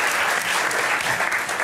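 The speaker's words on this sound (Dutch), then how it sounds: "Ook een applaus." A group bursts into steady applause, a dense continuous patter of many hands clapping close by, with no talk over it.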